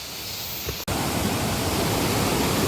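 A waterfall in a mountain valley on Gariwangsan, a loud, dense, continuous rush of falling water close by, with a brief dropout under a second in.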